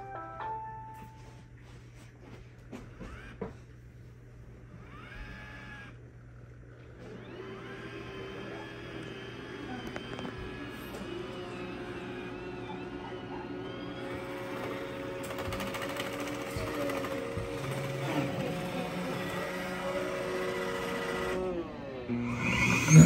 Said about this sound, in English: This is the iRobot Roomba i7 Plus.